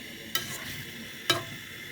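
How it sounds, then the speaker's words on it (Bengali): Beef with liver is sautéed in a pan with garam masala, a faint steady sizzle broken by two distinct scraping clinks of a spoon stirring the meat, about a second apart. "দিয়ে নাড়াচাড়া করা হচ্ছে।"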